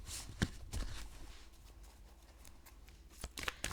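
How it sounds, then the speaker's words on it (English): Soft riffling and flicking of tarot cards being shuffled, a quick papery flurry with a few sharper taps, fairly close and quiet. "Let's give it a shuffle."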